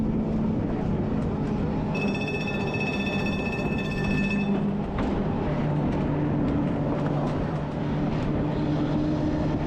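The electric tram of the Snaefell Mountain Railway on the Isle of Man runs with a steady low rumble and hum throughout. A high whine rises briefly near the start, and no one talks.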